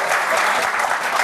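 A television studio audience applauds loudly and steadily, dense claps filling the whole moment with little else audible.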